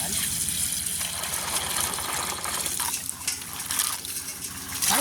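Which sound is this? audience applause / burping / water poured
water poured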